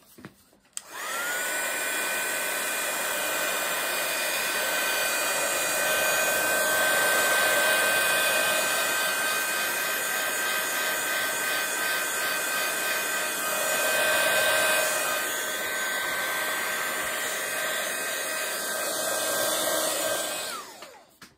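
A hair dryer blows on an acrylic art journal page to dry wet paint. It starts abruptly, holds a loud, steady whine with a faint tonal hum for about twenty seconds, then cuts off.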